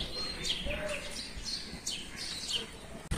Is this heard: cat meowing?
no